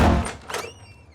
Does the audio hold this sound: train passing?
no